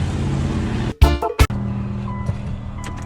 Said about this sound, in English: when I start the car, it'll be a good indication